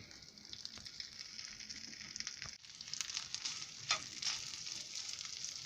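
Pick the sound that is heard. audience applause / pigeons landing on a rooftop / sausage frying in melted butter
sausage frying in melted butter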